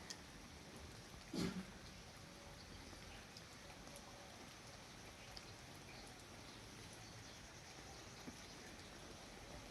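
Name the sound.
sudden rain falling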